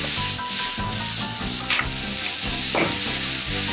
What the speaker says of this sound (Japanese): しなっとなるまでね、炒めていきますよ